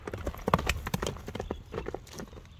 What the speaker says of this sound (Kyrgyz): атты чаап көрсөтөлү.